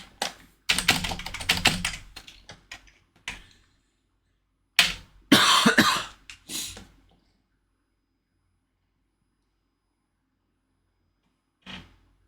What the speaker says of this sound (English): you'll have to excuse my coughing